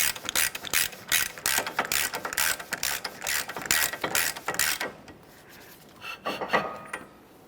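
A hand ratchet tightens the front axle nut on a 2014–2019 Toyota Corolla during a strut and spring replacement. It gives a fast, steady run of close metallic clicks for about five seconds, then a few softer scrapes.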